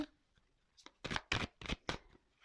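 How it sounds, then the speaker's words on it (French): Oracle cards are shuffled and drawn from a deck, a run of about five soft, close riffling bursts at an uneven pace, quiet overall, with no voices. "je vais prendre une petite carte conseil."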